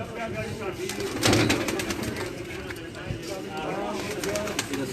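Pigeons coo at a loft after returning from a flight, soft repeated calls mixed with a busy background of other birds and a faint engine, with voices talking nearby.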